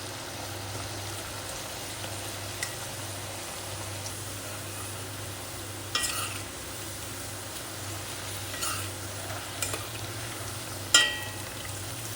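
Potato pieces fry in hot oil in a pan, giving a steady, close sizzle with a few light clinks and scrapes as they are stirred. No talking.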